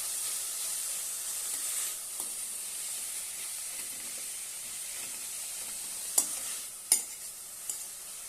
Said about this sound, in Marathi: चवीनुसार मीठ घालूया छानपैकी परतून घेऊया